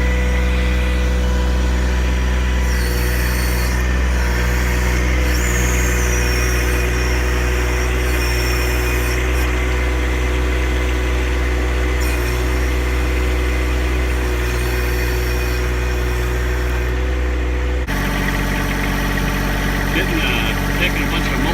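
A Kubota tractor engine idles close by with a steady low rumble and vibration, running loud and unchanged throughout as someone talks over it.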